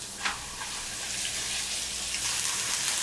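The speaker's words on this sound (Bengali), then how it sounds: "আদা ও রসুন বাটাটাকে একটু ভেজে নিতে হবে" Ginger and garlic paste fries in a pan with softened onions, giving a steady, close sizzle with light spattering and a faint stir near the start.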